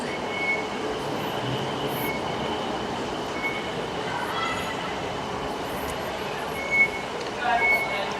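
A train rumbles steadily at a railway station in Thailand, with low mechanical drone, faint metallic squeals and a few brief clanks near the end.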